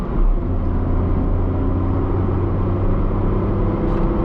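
A Tata Tiago car under full throttle in City mode, a loud, steady, low engine drone heard from inside the cabin, holding a constant rumbling tone throughout.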